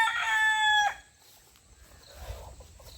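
A rooster among free-range native country chickens on a farm crows once, loud and close, followed by softer scattered clucking and ambient outdoor noise.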